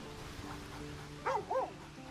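Dog in the video game Baldur's Gate 3 lets out two short, close barks or yips in quick succession over a faint game ambience.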